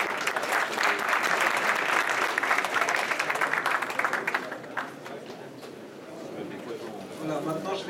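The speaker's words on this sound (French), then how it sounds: "On peut les applaudir pour cette première séance." An audience applauds steadily at a trading show event, dense clapping filling the room for several seconds before tapering off into crowd murmur and a speaking voice.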